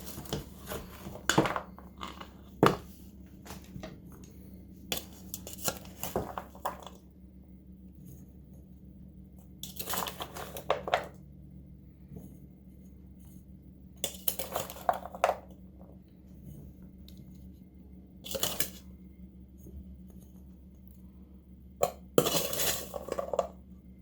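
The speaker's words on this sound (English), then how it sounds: "So I'm going to give these one last stir, and then I'm going to spoon them right into this crust." Blueberry pie filling is stirred and spooned into a crust, with scattered bursts of spoon scraping and clinking against a bowl, separated by quiet pauses over a faint steady hum.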